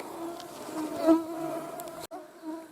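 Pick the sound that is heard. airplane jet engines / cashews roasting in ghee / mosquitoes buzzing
mosquitoes buzzing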